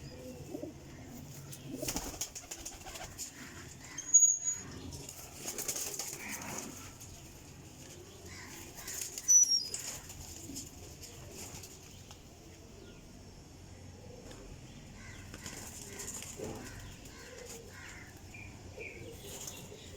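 A loft of high-flying pigeons coos softly and steadily, with a few louder bursts of wing flapping and fluttering close by, and other birds faintly in the background.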